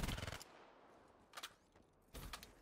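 Short rapid bursts of gunfire in Call of Duty: Black Ops III crackle in a few separate volleys, fairly faint, with quiet gaps between them.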